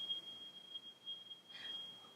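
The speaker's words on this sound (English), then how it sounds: "we're going to start out with our bells" Meditation bells ring softly in a quiet room, holding one faint, steady high tone with a gentle extra strike near the end.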